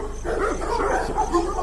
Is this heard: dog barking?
yes